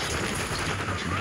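Gunfire in a first-person shooter match, dense and continuous through the whole short stretch, with rapid overlapping shots and low booms under a player's voice.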